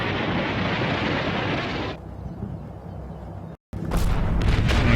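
Artillery barrage in the wartime strategy game Combat Mission: Battle for Normandy: a dense, roaring rumble of blasts that drops to low thunder, cuts out briefly, then bursts back loud.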